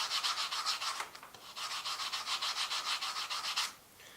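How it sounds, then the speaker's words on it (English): A coin ring is rubbed back and forth to polish it, making a steady rhythmic hiss of fast close strokes for about three and a half seconds that then stops, quiet and without talk. "Just take and rub it back and forth like that."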